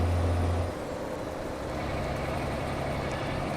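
Truck engine noise in American Truck Simulator, a steady low droning rumble with a deep hum, held at an even level throughout, with no talking.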